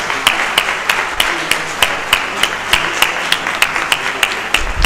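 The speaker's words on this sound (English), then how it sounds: "To our guest lecturer, can we give him a very sound applause?" Scattered audience clapping at an inaugural lecture for a guest lecturer, individual claps standing out over a steady wash of applause in a hall.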